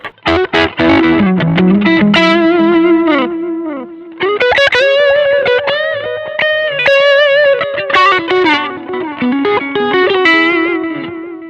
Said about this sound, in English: Let's check how that sounds